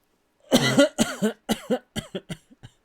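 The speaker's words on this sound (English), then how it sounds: "I have to actually cough" A person coughs in a quiet room, a close burst of about six or seven harsh coughs that shorten and fade toward the end, with no other sound around them.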